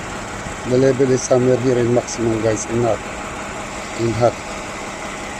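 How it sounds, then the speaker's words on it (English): A Toyota Kluger/Highlander engine with misfire fault codes idles in a low, steady hum beneath a voice speaking in short phrases close by. "the engine is running fine"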